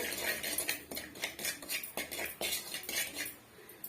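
A metal spoon scrapes and clinks against a pan while onion masala is sautéed over a medium flame for egg gravy, a series of close, irregular stirring knocks and scrapes.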